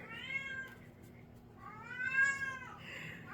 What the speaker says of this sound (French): Quand elle commence à miauler comme ça